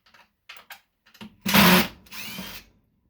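A power drill backs screws out of a computer monitor being scrapped, with a few faint clicks and handling taps before two loud, close bursts of whirring motor, the first harsher and the second slightly softer.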